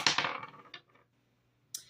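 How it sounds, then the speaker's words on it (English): Dice rattle and clatter briefly across a surface, the sharp tumbling fading quickly, followed after a pause by a single light tap. "So let's roll the dice."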